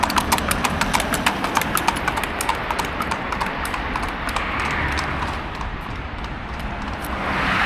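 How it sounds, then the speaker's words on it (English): Horseshoed hooves clip-clopping on a road, a quick, sharp rhythm of close strikes that fades out, leaving a steady rumble of passing traffic. "So you can hear that sound of the horseshoe"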